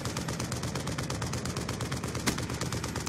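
Rapid automatic gunfire in the video game Black Ops 2 rattles as a dense, steady stream of shots with no pause, one sharper burst near the end, and no voices over it.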